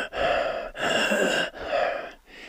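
A voice imitates wheezing, strained high-chest breathing, with three raspy, hissing breaths in a row at close range and short pauses between them, and no speech around them.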